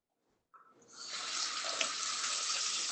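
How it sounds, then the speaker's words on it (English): A kitchen tap turned on after a brief clunk, then a steady hiss of running water as hands are washed under it, close and continuous, no talk. "So let me wash my hands real quick."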